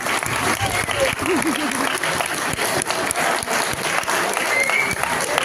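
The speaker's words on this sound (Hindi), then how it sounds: "भीमराव अंबेडकर के लिए जोरदार तालियां।" An audience at a college student play about B.R. Ambedkar bursts into loud, dense clapping that holds steady for several seconds, with a few voices mixed in.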